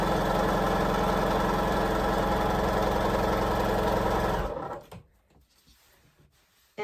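A sewing machine stitches a half square triangle of quilt fabric with a steady, close motor hum. The hum runs evenly for several seconds, then stops abruptly into near quiet.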